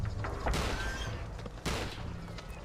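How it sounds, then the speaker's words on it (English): A single gunshot fired into the air in the King Kong video game, a sharp crack over a dense, rumbling game soundscape, followed by a second burst, with no talking. "I shoot the air for no reason there, wasting a bullet"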